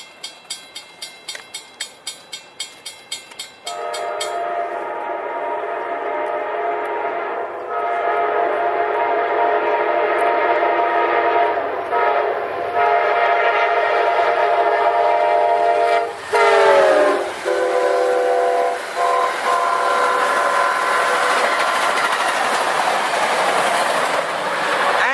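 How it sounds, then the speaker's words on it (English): An Amtrak 79 southbound passenger train with private cars on the end rolls past close by with rhythmic clattering wheels and a loud, sustained horn blast, rumbling steadily throughout. "here comes the Amtrak 79, southbound"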